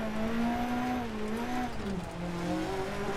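A rally car engine in the video game Dirt Rally holds a steady, loud drone whose pitch wavers and dips, then climbs again. It carries on without a break and nobody speaks.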